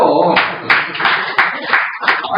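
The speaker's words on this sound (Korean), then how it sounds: "이러면 보통 박수를 쳐요." An audience at a lecture claps in short bursts of several claps with brief gaps between them, close and fairly loud, with a voice partly overlapping.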